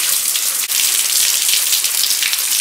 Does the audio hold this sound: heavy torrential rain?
yes